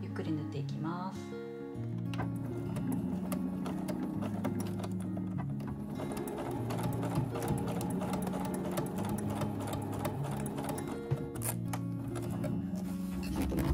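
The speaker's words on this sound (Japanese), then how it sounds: "少しこの部分縫いにくくなってくると思いますが、ちょっと倒しながらゆっくり縫っていきます。" A sewing machine stitches slowly through a tote bag made from tatami edging, its needle rattling in quick, even runs with short pauses, while someone speaks softly over it.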